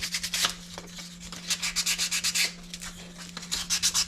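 A wooden box is hand sanded between polyurethane coats: quick, rhythmic back-and-forth rubbing strokes, close and fairly quiet, over a constant low electrical hum.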